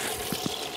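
A largemouth bass is dropped into the live well of a fishing boat, and water sloshes and gushes steadily at close range with a couple of soft splashy thumps.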